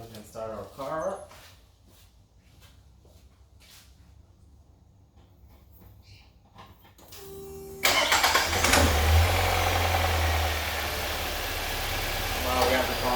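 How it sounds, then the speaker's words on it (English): A Nissan Altima engine cranks and catches after a quiet garage stretch following an oil change, then settles into a steady, loud idle close by for the rest of the clip. "And now we can start our car up."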